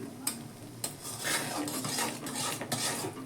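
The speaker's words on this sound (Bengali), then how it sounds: "ভালো করে মিশিয়ে দিতে হবে দেখুন বন্ধুরা এইভাবে জাল দিয়ে দিয়ে" A spoon scrapes and clatters against a pan while a palmyra palm sandesh mixture is stirred over heat, with repeated metallic knocks and a soft continuous sizzle underneath, close and fairly loud, no talk.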